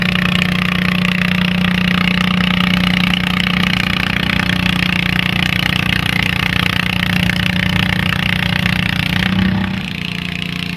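A garden tractor engine runs steadily and loudly at close range at a tractor pull, a continuous mechanical drone with a slight dip near the end.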